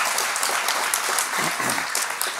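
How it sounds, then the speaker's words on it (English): Steady applause from an audience fills the room at the official launch of a 2023 African Heritage Month event, dense and continuous with no voices over it. "we're giving rounds of applause"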